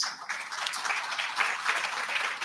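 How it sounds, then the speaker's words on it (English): Audience at a tri-county summit applauds a panel, a steady patter of many hands clapping at moderate volume, fairly faint and continuous. "A round of applause for our panel,"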